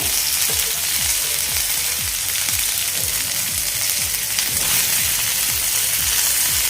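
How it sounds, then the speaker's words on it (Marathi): Bangda mackerel fries loudly in a pan as it cooks on its second side after being flipped, a dense close sizzle with a regular train of low soft pops throughout. "पुन्हा आपण ते दुसऱ्या साईडने व्यवस्थित असे फ्राय करून घेऊ आता आपण पुन्हा हे फ्लिप करून घेऊयात एकदा"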